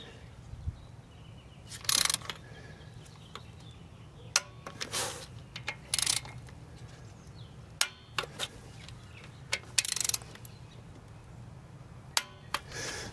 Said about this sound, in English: And just torque that to spec.